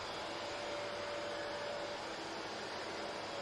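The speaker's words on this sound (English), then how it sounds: "when you turn that off, you would have noticed the vacuum keeps sucking for a bit" A dust extractor vacuum drones steadily after a Festool Planex 2 sander is switched off, a loud even whoosh of suction with a faint tonal whine, running alone without pause.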